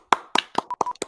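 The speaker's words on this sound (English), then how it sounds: "Round of applause for What's That's on." A small round of clapping at a podcast's 12th anniversary show, a handful of close, crisp claps with gaps between them, with a short beep-like tone between them.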